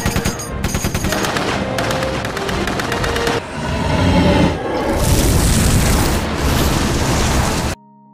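A .50 caliber machine gun hammers away at a dragon in an anime battle, loud rapid bursts of gunfire mixed with heavy booms and explosive rumbling before cutting off abruptly.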